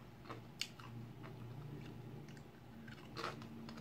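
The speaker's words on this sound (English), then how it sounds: "They are crunchy. Can you hear this crunch?" Crisp Buck Wild ranchero cheddar chips crunch between teeth in several close, quiet bites, with no talking.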